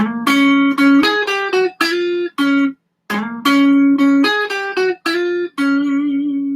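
A bright, sustained electric guitar lick of held notes and quick phrases, with a short pause midway, played clearly and loudly on its own.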